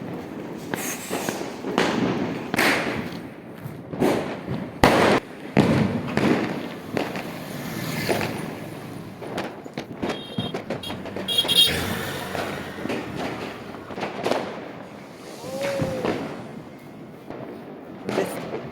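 Dense, continuous bursts of Diwali firecrackers and fireworks popping and booming at night at varying distances, overlapping thuds and cracks with no pause.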